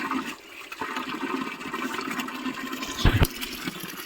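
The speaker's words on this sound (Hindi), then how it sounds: "थोड़ा सा पैर धोते हैं।" Water running and splashing as feet are washed outdoors in hill farm country, a continuous close rush of flowing water with a brief louder splash near the end.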